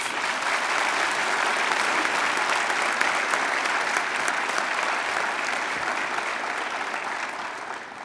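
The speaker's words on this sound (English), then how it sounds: "can we give her another round of applause?" Sustained, dense applause fills a police academy graduation ceremony hall, a crowd clapping steadily at full strength for about eight seconds before easing off slightly at the end.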